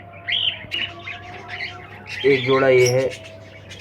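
Lutino cockatiels in a breeding setup give sharp chirps and squawky calls, brief calls early on and a louder burst near the end, while someone talks over them.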